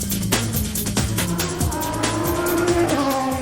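A race car engine at Magny-Cours winter testing roars and shifts pitch through gear changes, with tire squeal and revving layered close and loud for a few seconds, no voices.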